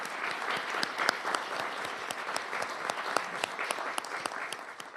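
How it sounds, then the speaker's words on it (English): An audience claps steadily in sustained applause at an Italian Heritage Month celebration, thanking councillors, with dense overlapping claps and no voices over it. "perhaps we can have a round of applause for all their work"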